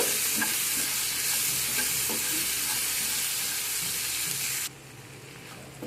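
Cashews frying with a soft tomato mixture in a pan give off a steady, loud sizzle with occasional stirring scrapes, the hiss dropping noticeably near the end.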